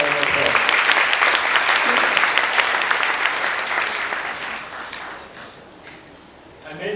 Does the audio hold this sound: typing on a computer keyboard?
no